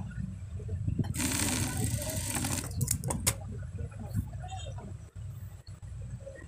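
A sewing machine runs a steady burst of stitching on the sleeve of a child's kabli, loud and close at first, then quieter, with a voice talking through much of it.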